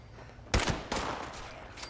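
Gunfire in the video game Borderlands 3: two sharp, loud bursts of shots in quick succession, the second slightly softer, over a steady low game background with no talking.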